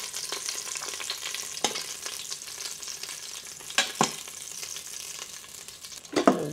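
Asian short ribs brown in oil in a pot, giving a steady, close sizzle with occasional stirring clanks and scrapes and no talking.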